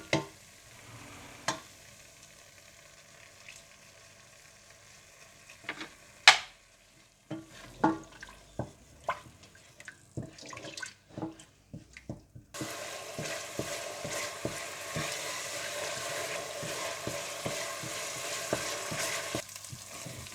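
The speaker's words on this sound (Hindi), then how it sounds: "जब प्याज का पानी खुश्क हो जाए तो आप इसमें तेल डालकर अच्छी तरह से भून लें" Ground onions cooking in a pan for chicken kofta: occasional spoon scrapes and knocks at first, then oil is added and a loud, steady sizzle of frying fills the background while stirring continues.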